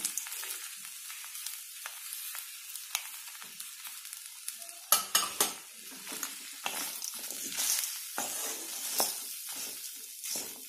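Coriander with its stems sautéing in a pan for chutney, giving a steady soft sizzle with scattered stirring scrapes and crackles, faint and continuous throughout.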